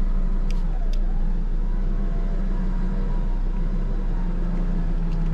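Car engine revving hard while bogged in mud on a Mt Sugarloaf off-road track, a steady loud drone that holds throughout with no break.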